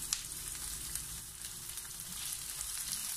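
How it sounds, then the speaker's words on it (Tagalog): Chopped onion sautéing in a tablespoon of cooking oil for sinigang with pork belly and shrimp, giving a steady, soft broadband sizzle that holds evenly throughout. "maglalagay po ako dito ng 1 tablespoon ng cooking oil, at atin pong i-saute muna ang ating sibuyas hanggang sa ito po ay lumambot"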